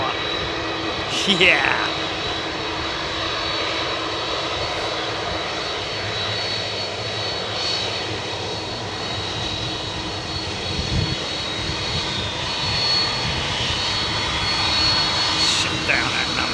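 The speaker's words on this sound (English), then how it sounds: "Listen to this beautiful cacophony of CF6 power." CF6 jet engines roar on a widebody airliner at Memphis, a loud sustained rumble and whine running throughout, with brief voices and a short spoken reply over it.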